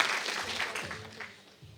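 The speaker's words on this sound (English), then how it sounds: "let's welcome Haley with a big applause" Audience applause welcoming a guest speaker at an event of a Marista school internationalization program, a brief burst of close clapping that gradually thins out over under two seconds.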